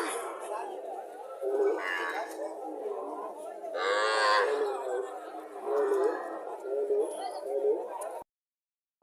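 Sahiwal cow at a muddy cattle market in Cumilla, giving several long, loud, close moos in a row with crowd chatter behind, cutting to silence at the end.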